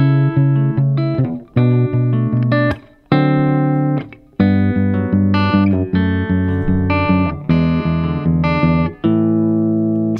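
The first half of the verse of a song is played on guitar, with bass notes and chords plucked together in a slow, even sequence, each chord ringing out clearly, close and fairly loud.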